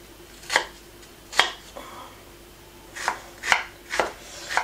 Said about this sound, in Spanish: estoy picando la cebolleta